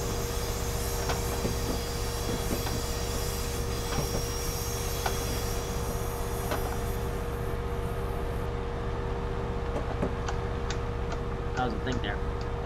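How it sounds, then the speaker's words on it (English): Train Simulator 2018 game audio of a train driving on the Peninsula Corridor, with a steady loud rumbling drone, clicking wheel beats and faint squealing tones throughout, while someone talks over it. "Now we're driving a train where it's really loud and stuff."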